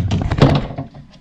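Small plastic cover on the chrome exterior door handle of a 2011-2018 Jeep Grand Cherokee being pried open, giving a short muffled thunk and snap, close and fairly loud, followed by a brief fading rattle.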